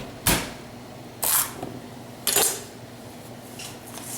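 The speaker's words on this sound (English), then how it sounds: "so we want to cut this perfectly down the center" A sharp knife chops down through a tough squash on a cutting board, three crisp separate cuts about a second apart, close and fairly loud against a quiet kitchen.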